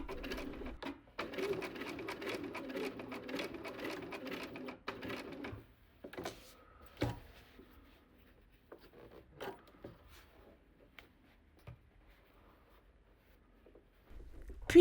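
Sewing machine stitching a vanity case, the needle running in a steady burst for about five seconds, then a few brief starts and pauses before falling mostly quiet.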